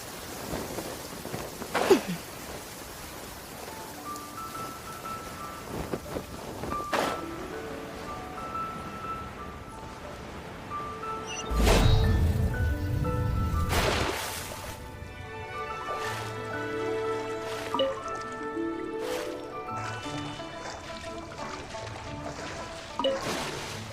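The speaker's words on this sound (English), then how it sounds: "When stuck on a deserted island, rain is a precious source of drinking water." Steady rain falls in the video game Genshin Impact, with a heavy roll of thunder midway and faint musical tones ringing over the downpour.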